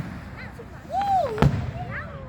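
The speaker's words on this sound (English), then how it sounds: "Fireworks, bud." Holiday fireworks go off at night: a rising, whistling streak ends in one sharp, loud burst, with faint crackle and other whistles around it. People talk and react nearby.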